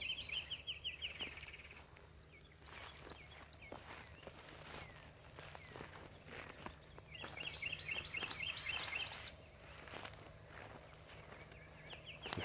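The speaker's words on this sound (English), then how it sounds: "birds chirping." Small birds chirp in bursts of rapid high twittering, near and fairly clear, over steady outdoor ambience and light rustling in Cairo, with wings flapping as they fly up by a nearby tree.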